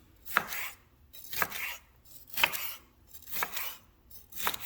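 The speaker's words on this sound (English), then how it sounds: "And then we'll cut it long ways." A knife chops through a seeded pepper cut lengthwise on a cutting board, five crisp, evenly spaced cuts that land close and clear with no talking.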